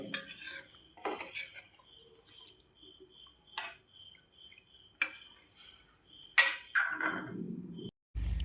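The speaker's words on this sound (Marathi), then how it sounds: "आता मिक्स करून घेऊया" Scattered metallic clinks and scrapes of a spoon against a pan while salted fish gravy is stirred, with quiet gaps between the knocks and a final louder bump.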